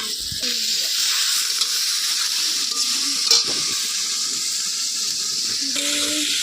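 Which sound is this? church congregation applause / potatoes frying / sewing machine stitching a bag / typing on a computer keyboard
potatoes frying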